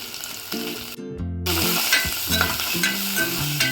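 Rasam ingredients, including crushed green chilli, fry for a moment in a little oil with a dense, close sizzle and scraping stirs, cut by a sudden quiet gap before the crackle comes back.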